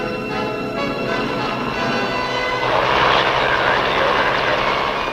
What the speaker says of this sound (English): the copters take off to fan out toward the various training fields or stage fields scattered throughout the countryside